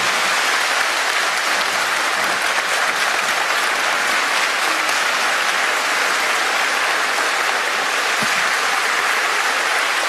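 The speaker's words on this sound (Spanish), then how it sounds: "Fuerte el aplauso" Audience at a church gathering applauding after a speech, a loud even wash of clapping from many hands that holds steady from start to finish.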